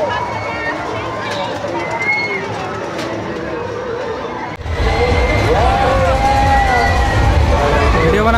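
Dense crowd hubbub at the Gandhi Mela fair in Simdega, Jharkhand: a steady wash of many voices and movement that swells noticeably louder about halfway through.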